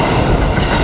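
A train rumbles loudly and steadily over a bridge, close by, with a dense, continuous roar of wheels on track.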